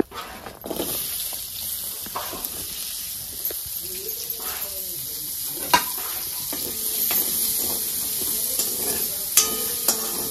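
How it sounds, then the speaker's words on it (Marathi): Onion sizzles and fries steadily in hot oil in a home kitchen, a constant close hiss with occasional stirring clicks and scrapes of a utensil, while someone talks quietly over it. "आता ह्याच तेलामध्ये मी कांदा पण भाजून घेणार आहे।"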